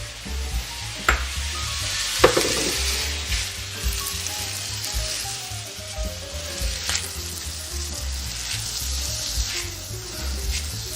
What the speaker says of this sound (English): we're going to add in the hondashi right here, and the mirin around the edges